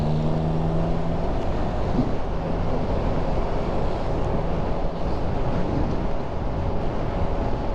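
Strong wind buffets the microphone while riding a small automatic scooter on an open stretch of road, a constant loud roaring rush with engine and road noise underneath.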